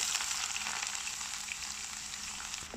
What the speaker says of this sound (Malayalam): അടുത്തായിട്ട് ആ എണ്ണയിലേക്ക് ഒരു വലിയ സവാള കനം കുറച്ച് നീളത്തിൽ അരിഞ്ഞൊന്ന് ചേർത്ത് കൊടുക്കാം.